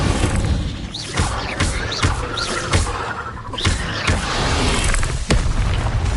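The Incendio fire spell in Hogwarts Legacy bursting over and over, a dense stream of loud booming thuds and crackling blasts with a few heavier hits.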